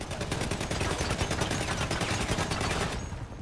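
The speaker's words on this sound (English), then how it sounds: "I swear you're just shooting the wall." Sustained automatic gunfire in GTA 5 Online, a loud, steady rattle of rapid shots running for about three seconds before cutting off.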